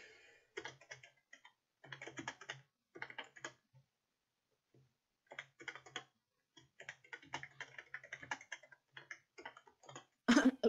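Computer keyboard typing during an EverQuest II gaming session: bursts of quick clicking keystrokes separated by short pauses, close and fairly soft, with no talking.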